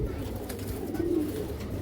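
A black female pigeon coos in low, soft, continuous murmurs, fairly close and steady, with no talking over it.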